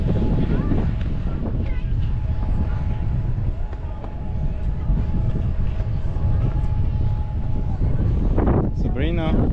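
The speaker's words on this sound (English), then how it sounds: "it's windy up here." Wind at the Benalmádena cable car near Málaga buffets the microphone in loud, gusty low roars throughout, with a faint steady hum and brief voices and a child's sounds near the end.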